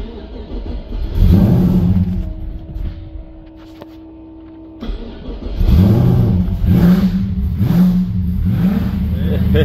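A car engine being prepared for Summernats, with its exhaust refitted, cranks and catches, then settles into a rumbling idle with a few revs. Loud and close, it stops briefly midway and restarts with rising throttle blips while someone talks over parts.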